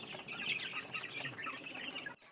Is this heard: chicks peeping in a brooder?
yes